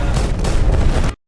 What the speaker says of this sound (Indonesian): saat Gruner meledakkan dinamit yang kedua